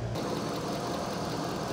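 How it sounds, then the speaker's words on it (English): A Vortec engine in a vehicle at a Copart auction yard, having been slow to start, idles with a steady, even rumble that fills the whole short stretch, close and fairly loud with nobody talking. "let's see what the engine sounds like"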